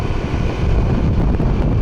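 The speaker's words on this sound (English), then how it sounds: "It's windy, it's very windy." Strong wind roars across the microphone during a motorbike ride on a bridge in Da Nang, Vietnam, a loud, continuous low buffeting rumble with no break.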